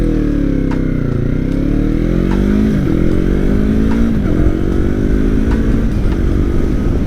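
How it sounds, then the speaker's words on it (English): A motorcycle accelerates hard from a standstill, its loud, close engine climbing through the revs with audible gear changes along the way, and no speech over it. "We're gonna give the bike a nice takeoff, and we're just gonna see how fast, I mean, it can go."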